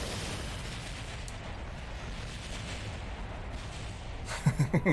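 Howitzer artillery firing in Kerbal Space Program with the BD Armory mod: a low, steady rumble, then a quick run of four heavy booms near the end.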